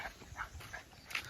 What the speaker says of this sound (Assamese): সেয়া দেখিছোঁ কি মাহীহঁতৰ কুকুৰটো সিহঁতে বাহিৰত ঘূৰি ফুৰি আছে